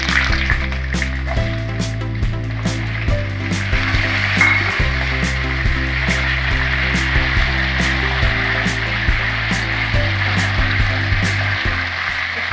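Potato slices (aloo katliyan) frying in hot oil give off a steady, even sizzle that continues without a break, close by and alone with no voices.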